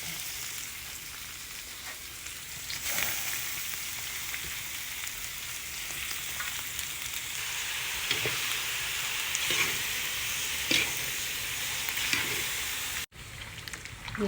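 Lamb meat sizzles and fries in a kazan, a continuous close hiss broken by scattered sharp pops and crackles throughout.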